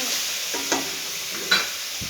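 Bottle gourd palya fries in a pan with a steady close sizzle, while a spatula stirs and scrapes through it in a few distinct strokes, no voices present.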